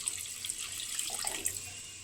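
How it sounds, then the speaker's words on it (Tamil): Soaked tamarind water is poured into a cooking pan with sautéed onion and tomato for a fish curry, giving a steady, close liquid splashing and trickling with no voices. "நம்ம கரைச்சி வச்ச புளியை ஊற்றிடலாம்."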